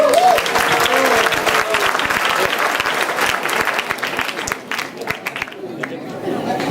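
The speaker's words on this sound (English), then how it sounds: "Can you please give them a round of applause?" Audience applauding a children's skit at a Mahaveer Jayanti celebration, with dense hand clapping in a hall that thins toward the end, and scattered chatter underneath.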